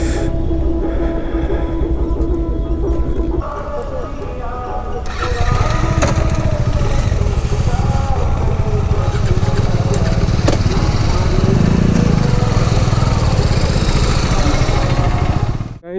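Motorcycles, a Bajaj Dominar 400 and a TVS Apache RR 310 among a riding group at Ramgarh valley, rumble and rev loudly; a lighter idle gives way to a heavier, sustained engine drone after a few seconds, while voices murmur in the background.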